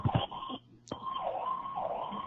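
Emergency vehicle sirens wail, rising and falling in the distance, interrupted by a brief gap and a sharp click, then continuing steadily.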